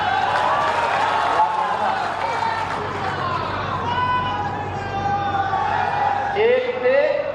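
A rally crowd applauding Yogi Adityanath in Ghazipur, a steady wash of clapping and crowd noise lasting throughout, with a voice talking over it.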